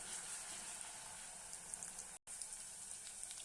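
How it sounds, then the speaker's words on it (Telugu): Ginger garlic paste sizzles with onions in a hot pan, a steady quiet frying hiss with small pops and a brief dropout partway through. "ఇప్పుడు ఒక స్పూను అల్లం వెల్లుల్లి పేస్ట్ వేసుకోండి. అది కూడా కొంచెం బ్రౌన్ కలర్ వచ్చే వరకు వేయించుకోవాలి."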